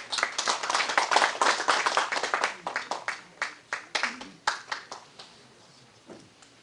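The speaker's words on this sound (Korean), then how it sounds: "큰 박수 부탁드리겠습니다" An audience at a Jeju forum session on the North Korean economy claps in a burst of dense applause that thins into scattered, individual claps before fading out.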